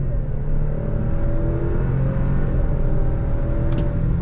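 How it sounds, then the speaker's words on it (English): A 2022 Alfa Romeo Stelvio sport SUV accelerates on throttle in manual paddle-shift mode, its engine a steady, loud low rumble heard from inside the cabin. "Now what I did was I put it in manual shift mode. I'm going to use the massive paddles and we're going to go on throttle."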